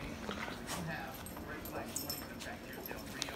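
A puppy whimpers and gives high little yips at a home during the holidays, soft intermittent cries mixed with people talking nearby.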